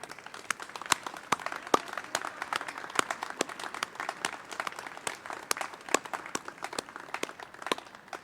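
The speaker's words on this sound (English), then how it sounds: "a final word and a hand clap, a big thank you to this organizing committee." Sustained audience applause at a closing ceremony of the IPVS 2022 congress, many hands clapping in a dense, even patter for the whole stretch, fairly close and steady with no talk over it.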